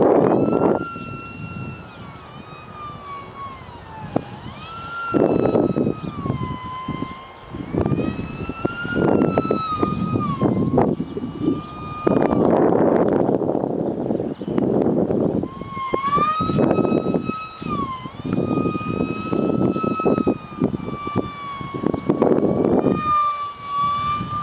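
A small, fast RC micro jet driven by an E-flite 28mm electric ducted fan whines high and loud in flight. The pitch sweeps up and down repeatedly as it makes passes, with the sound swelling and fading with distance.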